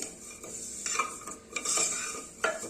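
Cashews, almonds, pistachios and charoli nuts roasting in ghee, with a spoon scraping and clinking against the pan in short, uneven stirs and a faint sizzle underneath.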